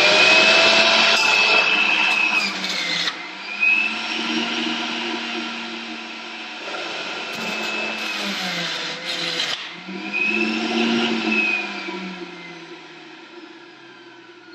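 A juicer presses carrot and cucumber in a loud, whining motor drone that dips and rises in pitch as the vegetables load it, running continuously for about fifteen seconds without talk.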